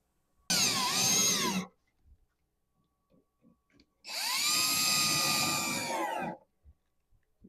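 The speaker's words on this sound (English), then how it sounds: "I'm just going to run around and run them down with my drill." Two bursts of a cordless drill running screws down into a GARVEE garden bed, the first about a second long and the second a steadier two-second whir, with quiet clicks and handling noise between them.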